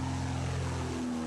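A small propeller airplane takes off with a steady, droning engine hum, moderately loud and continuous throughout, with no voices.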